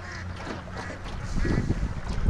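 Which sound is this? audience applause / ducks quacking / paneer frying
ducks quacking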